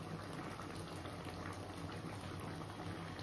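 Prawn curry simmers in a pan, a quiet continuous bubbling and sizzle with no break and no voices.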